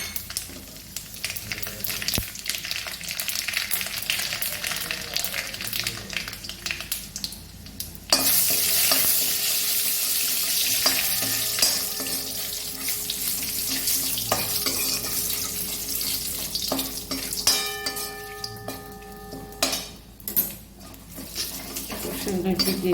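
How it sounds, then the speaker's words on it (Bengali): Black mustard seeds, dry red chillies and bay leaf fry as a tempering in mustard oil, with a steady sizzle, spoon scraping and pan clatter close by, and someone talking over it at times. "ফোড়নের জন্যে কালো সর্ষে, শুকনো লঙ্কা, তেজপাতা"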